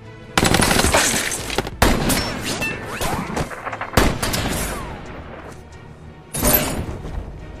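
A sniper film scene fills with gunfire: several loud, sharp shots and rapid bursts crack out at irregular intervals, with echoing tails and debris clatter between them and no speech.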